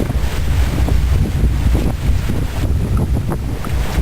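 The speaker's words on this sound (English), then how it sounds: "let's put up the sails and turn the motor off so you can hear the wind but no motor" Wind rushing over a sailboat under sail with its motor switched off on the way to Catalina, a steady loud broadband roar with low buffeting gusts and faint water wash throughout.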